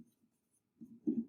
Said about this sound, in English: I'll write it out again